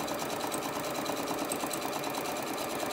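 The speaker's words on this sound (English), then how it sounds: "So I'm gonna get this all sewed together." A sewing machine runs steadily, stitching together a fabric lunch tote bag, its continuous close whirr alone and unbroken throughout.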